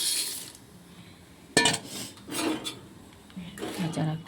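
Pasta being stirred in a pot of boiling water: a few separate bursts of scraping and rubbing against the pot over a quiet bubbling background.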